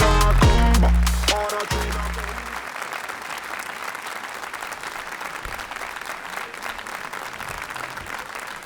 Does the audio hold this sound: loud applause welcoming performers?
yes